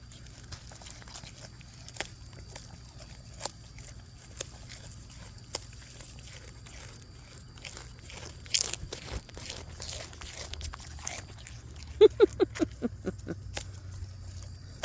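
A farm animal chews and crunches grass close by, with soft steady munching that grows into a quicker run of crisp crunches near the end. Faint background noise runs throughout, and there is no talking.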